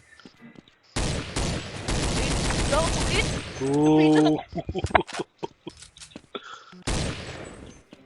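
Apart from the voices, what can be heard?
AK rifle gunfire in a video game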